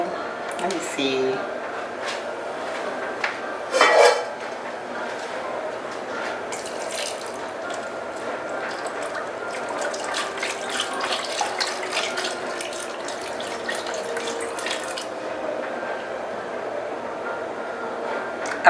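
Seafood stock pours steadily from a container over ramen noodles in a home kitchen, a continuous watery splashing stream that runs throughout, with a brief clatter near the start.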